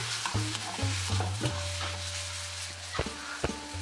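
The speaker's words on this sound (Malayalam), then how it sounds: "ഇനി ഇതൊരു 30 സെക്കൻഡ് നേരം വഴറ്റിയെടുക്കാം." Shallots and chopped tomatoes for a restaurant-style fish curry sauté in a pan, a spoon scraping and stirring in uneven strokes over a low sizzle, close up with no talk.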